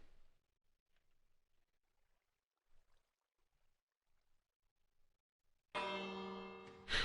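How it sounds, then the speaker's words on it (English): A bell in the video game Minecraft rings once near the end, a bright loud metallic strike with a ringing tail after a quiet stretch of faint soft sounds. "The bell."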